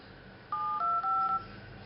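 Three short keypad tones in quick succession from the phone dialer on a Samsung Galaxy S2 running SuperNexus, clear and close over faint background hiss.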